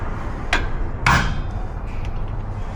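Two sharp hammer strikes on an impact screwdriver land about half a second apart over steady low background hum, followed by a few faint metallic taps, during rear brake work on a Honda Pilot.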